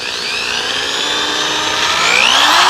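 A power buffer polishing an old, crusty aluminum car wheel gives a loud, continuous close-up whine whose pitch rises toward the end as the pad works the metal.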